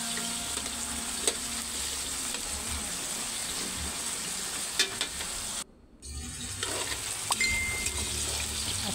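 Chicken pieces frying in oil for chicken curry, a continuous close sizzle with occasional pops and stirring clatter, briefly cut to near silence midway before the frying hiss resumes, no talk.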